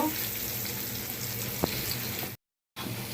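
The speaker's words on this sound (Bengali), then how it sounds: "আলুগুলো আমি ভালো করে ভেজে নিব।" Potatoes fry in hot oil with a steady, close sizzle and a single brief clink near the middle, then a short cut to silence before the sizzling resumes, with no voices.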